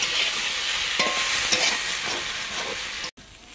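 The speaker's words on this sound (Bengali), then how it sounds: "এদিকে ঢেঁড়স ভাজাটা হচ্ছে।" Okra frying in a pan, a steady close sizzle with faint stirring scrapes throughout and a brief cutout just before the end.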